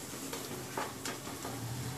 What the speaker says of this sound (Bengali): এইভাবেই ঢেকে ঢেকে নাড়িয়ে নাড়িয়ে বারবার আমি দেখব।